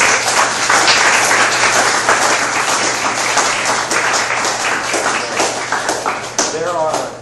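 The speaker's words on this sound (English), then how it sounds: "Let's give him a round of applause" An audience at a talk breaks into loud, steady applause with dense clapping throughout, while a voice speaks near the end.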